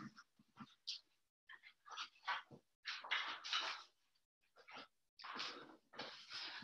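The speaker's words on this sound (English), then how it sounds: "the dogs are being challenging" Dogs indoors whimpering, sniffing and snorting in short irregular bursts, fairly quiet and close, with pauses between the noises.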